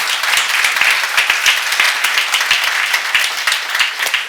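Congregation clapping in a church during a sermon, a dense, steady wash of many hands applauding together, close and loud throughout with no pause.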